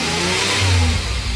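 A car engine revs up loud and close, a rising mechanical roar that swells mid-burst and then settles, with no talk.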